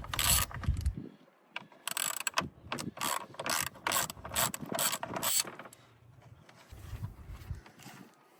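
A ratchet spinning out 10mm bolts from the top of a Mitsubishi Pajero fan shroud, giving rapid, loud, close clicking bursts with short pauses and some clunks in between.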